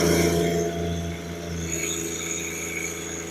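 Compact John Deere 1023E tractor engine held at full throttle during a lift test, a loud, steady drone with strong harmonic hum and no change in pitch throughout.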